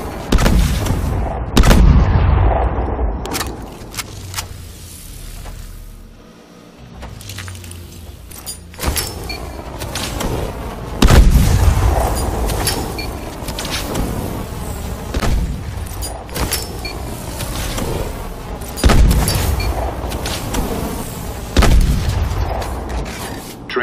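Grenade blasts in a video game training simulator come as sharp booms spread across the stretch, several loud hits with quieter gaps between them and no talk.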